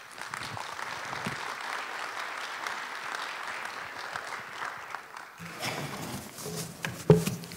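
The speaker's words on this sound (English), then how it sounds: "So a very, very warm round of applause to Daniela BAS." Conference audience applauding to welcome the keynote speaker, a sustained moderate round of clapping that thins out after about five seconds, leaving scattered claps, shuffling and a few knocks.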